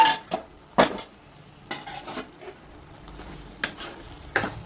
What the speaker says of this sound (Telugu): ఇది బాగా మిక్స్ చేసేద్దాన్ని, ఇందులో బాగా మిక్స్ అయిపోవాలి